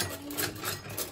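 An old sewing machine running with no needle fitted, giving a steady, fast mechanical whirring and rhythmic clatter close by, running unbroken for the whole short stretch.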